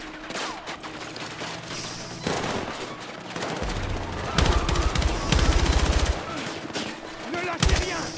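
Gunfire in the Battlefield 6 campaign comes as loud, rapid automatic bursts over a busy, noisy battle background, with the heaviest stretch of fire in the middle and a few sharper shots near the end.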